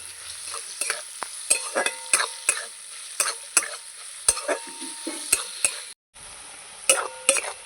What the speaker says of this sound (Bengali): পেঁয়াজগুলো ভালো করে ভেজে নেব একটু লাল লাল করে ভাজবো